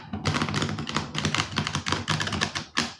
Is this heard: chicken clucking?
no